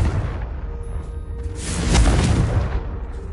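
Spell blasts from Bombarda and Confringo in Hogwarts Legacy: a rumbling burst of boom and whoosh swelling midway, loud over a steady low game ambience, with no talk.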